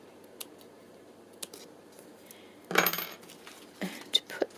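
Scissors snip through craft paper in a couple of brief crisp cuts, close by and fairly quiet, with light handling noises between them.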